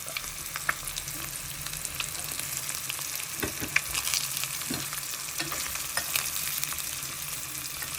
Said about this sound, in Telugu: ఇప్పుడు మనం ఉడకపెట్టుకున్న ఎగ్ని దీంట్లోకి వేస్తాం.